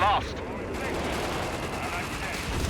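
Nebelwerfer rocket artillery barrage in Company of Heroes 3, a rumbling wash of blasts and rolling detonations lasting throughout, with a short whistling screech at the start and someone talking over the din.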